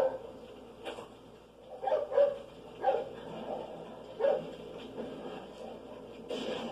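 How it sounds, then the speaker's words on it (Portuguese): A dog in Resident Evil 4 gives a series of short, moderately loud barks and yips at irregular intervals over game background ambience, with no talking. "Hey, it's that dog."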